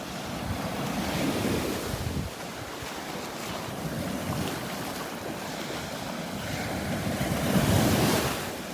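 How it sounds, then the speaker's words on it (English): Ocean surf breaking along a shell-strewn ridge at Delnor-Wiggins beach on a cloudy morning, a continuous rushing wash that swells and ebbs, with gusts of wind buffeting the microphone throughout. "There's a ridge right along here where the waves are breaking"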